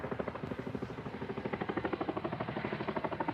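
A Chinook helicopter carrying an underslung load thuds steadily overhead, its rotor beat a fast rhythmic chop that grows stronger and more pronounced toward the end, loud and continuous with no talk.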